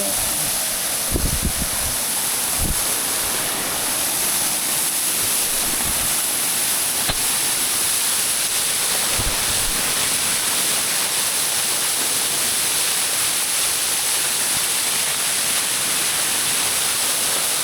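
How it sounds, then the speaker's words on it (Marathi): Steady roaring rush of a waterfall, loud and constant throughout, with a few faint knocks near the start. "मातीचा धबधबा आहे हा"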